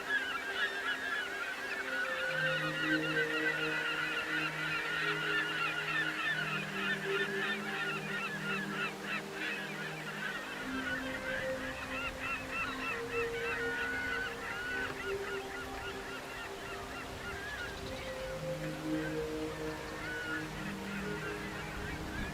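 Seabirds nesting on the towering harbour cliffs at Heimaey, Iceland, fill the air with a dense chorus of overlapping honking calls over a steady low engine drone.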